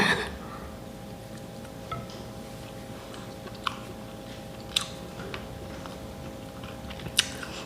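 Close, quiet chewing of tender chicken noodles, soft wet mouth sounds with a few sharp clicks and ticks, over a low steady room hum.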